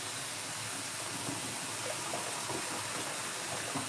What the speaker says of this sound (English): now I'm going to fill it up with cold sink water